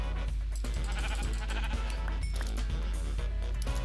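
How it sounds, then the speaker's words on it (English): Sheep in the Minecraft video game bleat loudly in a few short bursts over continuous background game music. "Let's go and quickly kill a sheep, see if that would work."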